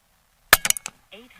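A Western Airguns Rattler .30 air rifle firing at a target 50 yards away, a sharp close crack followed by a quick cluster of fainter metallic clinks, then a brief voice.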